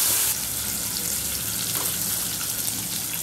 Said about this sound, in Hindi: टमाटर और जीरे को ऑयल में अच्छे से मैं पका लूंगी